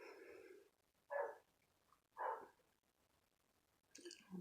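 Dogs barking in their crates: two short, loud bursts about a second apart, then a fainter yelp near the end over quiet room background.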